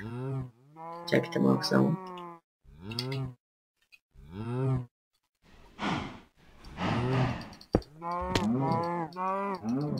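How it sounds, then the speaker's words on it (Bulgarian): Minecraft cows moo repeatedly in drawn-out, nasal calls, several in a row with gaps, close and loud, while someone speaks briefly between them. "Нека не обръщаме внимание на кравите"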